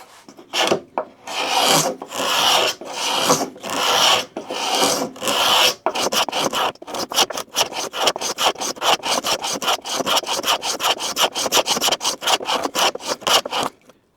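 A homemade scratch stock scrapes along a wooden edge with a dry, rasping sound: about six long, steady strokes, then a quicker run of short, repeated scrapes, all close and loud with no talking.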